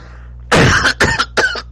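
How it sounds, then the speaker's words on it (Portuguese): Several short coughs in a row, close and fairly loud, after a quiet moment. "Aqui tá uma tossinha aqui."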